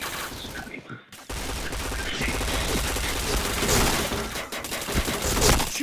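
Rapid gunfire from the online shooter game Point Blank, with dense, overlapping bursts of shots that keep up almost without a break at close, loud volume.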